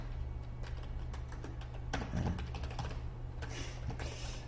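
Someone types on a computer keyboard during a coding tutorial. Light, irregular key clicks come in small bursts over a faint steady hum, with no voice.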